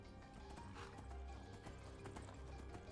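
A horse gallops steadily in Skyrim, its hoofbeats a rapid, even clip-clop at moderate volume over a dense bed of outdoor game ambience, with no voices.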